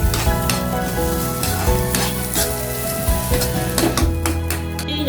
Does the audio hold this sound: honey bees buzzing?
no